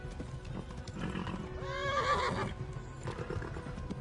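Horse neighing in the Kingdom Come: Deliverance video game, a loud whinny rising and falling near the middle, with hooves clopping and game sounds around it.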